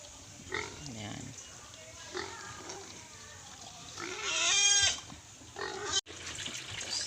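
Native pigs feed on pineapple peels in their pen, giving grunts and a sharp, rising squeal near the middle. A person talks over the low background of feeding.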